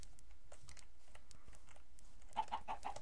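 Chickens clucking in a survival video game, a short run of four quick clucks near the end under steady computer keyboard typing, faint and close.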